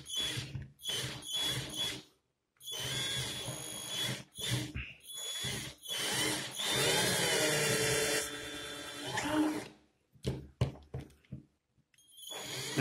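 A cordless 12V DEKO screwdriver driving a screw whirs in repeated bursts of varying length, with short pauses between, close and fairly quiet.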